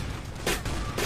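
Gunfire from a shooting video game, a couple of sharp bursts standing out over a dense, noisy game soundtrack in a short stretch.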